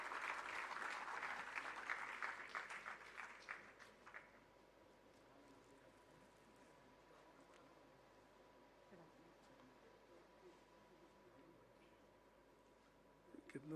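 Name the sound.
audience applause welcoming a speaker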